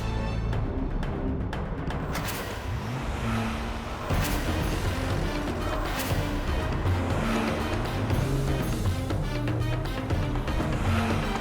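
A car drives along continuously for several seconds, its engine and road noise fairly loud and steady, with no voices heard.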